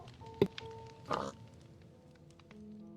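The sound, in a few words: pig oink sound effect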